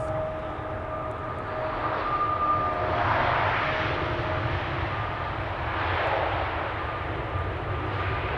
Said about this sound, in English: That's an idle reverse landing